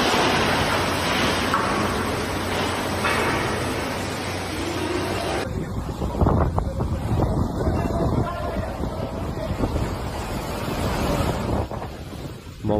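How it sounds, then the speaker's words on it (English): Hurricane Otis winds roar through Acapulco at up to 260 km/h, a loud continuous rushing gust noise with buffeting against the microphone, waves or surf mixed in, alone without talk. "Wind speeds reached up to 260 km per hour."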